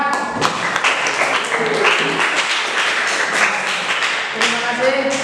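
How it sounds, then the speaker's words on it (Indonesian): Classmates clap for a student named Fahad in an Islamic lesson, a burst of scattered hand claps and taps with some thumps, moderately close, with faint voices and tones underneath. "Tepuk tangan untuk Fahad"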